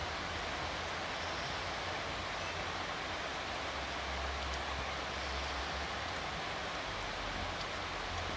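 Steady rain falls continuously in California, a dense even hiss of drops on surfaces with no breaks and no voices, close and moderately loud throughout.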